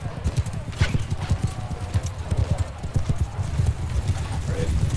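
Horses gallop in the Bannerlord video game, a cavalry charge with horse archers in online PvP combat, with steady, loud, close hoofbeats throughout, a brief whinny and game battle noise underneath.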